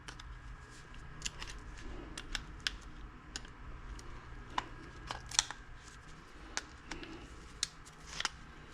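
Wire clippers cutting wire inside a cell tower RF amplifier during a teardown, a series of sharp, scattered clicks and snaps up close over a low background hum, with no talking.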